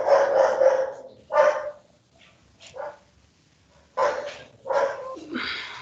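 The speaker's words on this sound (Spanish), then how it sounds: "Perdón por el perro." A dog barks in several sharp bursts with short pauses between them, fairly close and loud, with no talking, at an MRI facility.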